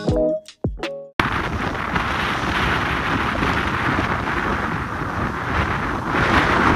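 Strong wind on the beach at Yantarny in the Kaliningrad region buffets the microphone with a continuous, loud roaring rumble, after a few brief knocks at the start.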